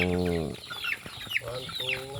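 Young gamefowl chickens, cockerels and pullets, cluck and chatter nearby, several short calls scattered over a soft background, with a brief drawn-out squawk at the start.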